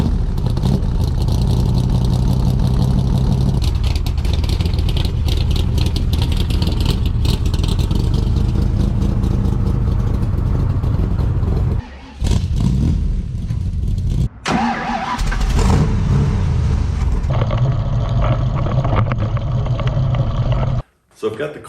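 Loud engine of a Factory Five Mark 2 car running with a deep, continuous roar and rumble, the motor bouncing hard on its mounts, with a few brief dips and restarts near the end while voices talk over it.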